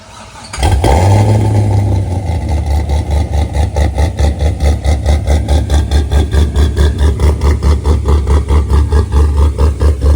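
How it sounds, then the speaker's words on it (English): An LS7-swapped Cadillac CTS-V second generation cranks and fires up loudly, then settles into a deep, lumpy V8 idle with a steady pulsing beat, up close and with no talk over it. "I'm gonna give you guys a good startup and idle and drive away clip."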